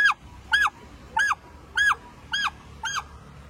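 A duck calls six times in a steady rhythm of short, nasal honking quacks, close and clear over a quiet background.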